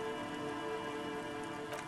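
Steady rain and a coastal breeze in the game Disco Elysium, a continuous soft wash of falling drops and wind, even and unbroken throughout, with no voices.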